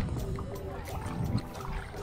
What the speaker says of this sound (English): We quickly hopped on into our kayak and started paddling out of the busy Jericho Beach area.